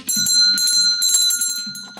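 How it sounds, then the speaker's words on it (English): A handheld bell is rung repeatedly, its bright, sustained metallic ringing loud and close, with a faint voice beneath. "I'm going to ring the bell again for all of our heroes and for Paula as well"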